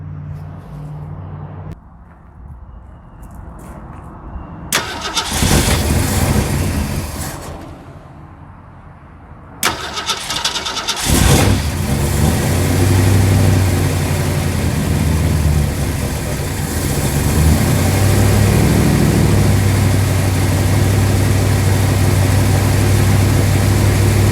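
A 1969 Mercury Monterey with a 390 V8, fresh coil, wires and plugs, cranks and fires, stumbles and dies, then restarts and settles into a loud, steady, rumbling idle close by.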